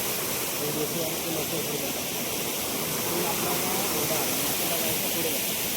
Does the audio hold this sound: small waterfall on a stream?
yes